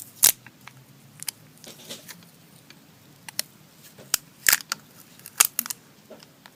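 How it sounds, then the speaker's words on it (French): Adhesive tape peeled off a small plastic toy pet, giving a series of sharp crackling rips and ticks spread irregularly across a quiet room, some louder bursts close to the microphone, with no talking. "si on enlève le scotch"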